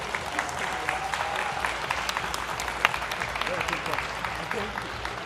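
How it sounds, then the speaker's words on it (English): Continuous applause from a gathered crowd at a livestreamed tablet showcase event keeps up an even wash of claps with occasional sharper hits, and talk runs underneath. "Thank you, GN. Round of applause."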